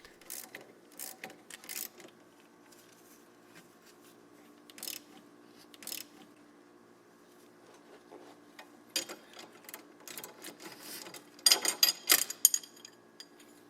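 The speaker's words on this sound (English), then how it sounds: "turning the stud counterclockwise with a 10mm socket on your ratchet" Ratchet turning a sway bar link stud with a 10mm socket on a Chrysler 300. Quiet, irregular clicking comes in short bursts with pauses, growing busier and louder near the end.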